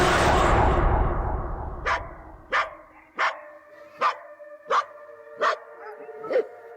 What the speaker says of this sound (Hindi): भाई कुत्ता लगातार भौंक रहा है उसके ऊपर।